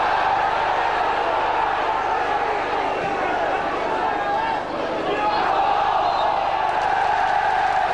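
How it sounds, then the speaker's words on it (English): Football crowd at Wrexham's Racecourse ground during a 1999 match against Middlesbrough, a steady roar of many fans and scattered ironic clapping spread across the stands, loud and continuous throughout, with commentary talk over it. "Ironic applause now around the racecourse."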